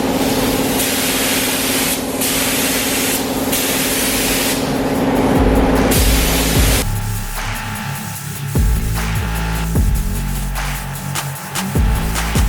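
Spray gun hissing as it paints panels of a vintage Bennett gas pump, a loud close airy spray in repeated bursts, with a low compressor rumble and a clunk or two in the later part.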